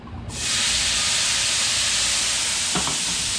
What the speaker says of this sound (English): now we're going to deglaze this pan with the Grand Marnier.